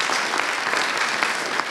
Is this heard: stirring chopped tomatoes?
no